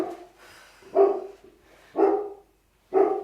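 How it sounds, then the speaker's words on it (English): An indoor dog barks three times at roughly one-second intervals, loud and close, each bark sharp and separated by quiet, with no talking over it. "The dog is now barking at something."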